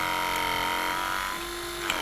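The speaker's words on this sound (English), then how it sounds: "We'll use the scissor cutter head here. I'll just cut this lug off." Steady high electric whine of a Ridgid powered scissor cutter head working through a metal lug, close and continuous for about two seconds with a slight pitch drop near the end, no talking.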